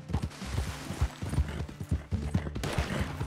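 Horse hooves gallop in Red Dead Redemption 2, a quick uneven clip-clop of thudding strikes heard up close with game ambience behind.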